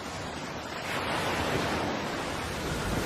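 Stormy North Sea waves, a dense continuous roar of surf and wind that swells slightly partway through and stays loud throughout.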